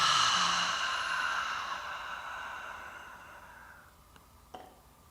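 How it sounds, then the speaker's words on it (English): A single long, audible exhale follows a deep breath during a guided breathing exercise at a spiritual gathering, loud at first and fading gradually into quiet, with no talking. "Take a deep breath in and let it out"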